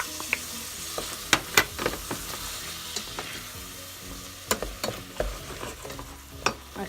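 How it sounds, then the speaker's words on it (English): Meat, onion and chickpeas fry in a pan for lamb spring roll filling, a steady close sizzle broken by frequent scraping clicks and knocks of a utensil stirring against the pan. "I'm going to add the meat and then fry it with the onion."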